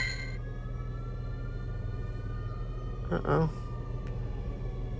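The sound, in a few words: ambulance siren passing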